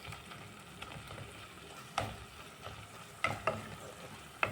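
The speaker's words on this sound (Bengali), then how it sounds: "আপাতত শুধু মশলাটা আমি আগে ঠিক করে ভেজে নিচ্ছি।" Spices for rajma fry in a pan with a steady soft sizzle, broken by irregular stirring scrapes and clinks. The sound is close but quiet, and no one speaks.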